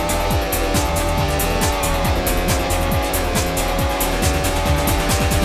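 Race cars in a retro racing video game roar through the final lap, their engines droning loud and continuous with repeated pitch sweeps as gears shift, along with some tire squeal.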